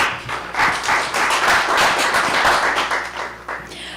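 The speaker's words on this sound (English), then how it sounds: "Let's give another round of applause for Mr. Matthew and his wonderful words." A crowd at a conference inauguration ceremony applauds with dense, continuous clapping that holds steady for several seconds before thinning slightly at the end.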